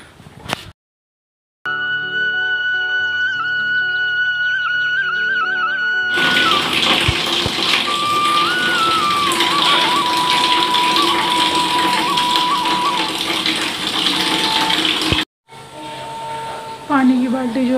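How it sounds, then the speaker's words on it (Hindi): Tap water runs steadily into a bucket at home from a slow-filling geyser tank, a continuous close rushing hiss lasting several seconds, with talk and other household sounds before it. "पानी की बाल्टी जो है लगा दी है मैंने भरने के लिए"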